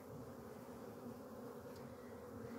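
Honeybees buzz at an opened hive during a mite treatment with Formic Pro, a dense, steady, close hum that holds without a break and has no talk over it.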